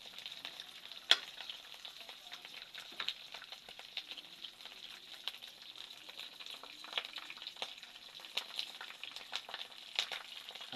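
Moringa leaves fry in a pan with a steady, soft sizzle and crackle, faint and close, running alone without talk for about ten seconds.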